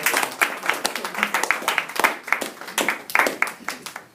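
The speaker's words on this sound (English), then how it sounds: "give them a round of applause" A small audience claps for the participants, moderately loud with individual hand claps distinct and uneven, rising and falling in bursts rather than a smooth roar.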